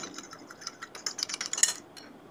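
A whisk or spoon beats beaten eggs seasoned with oregano and black pepper in a bowl, a quick run of light clinks and taps that thickens in the middle, soft and close, with no talking.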